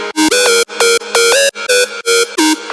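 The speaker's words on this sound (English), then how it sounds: "it's like a really electro house sounding lead" An electro house synth lead from a Splice preset plays alone, loud and bright, in short chopped stabs and sliding pitch bends repeating in a tight rhythmic pattern.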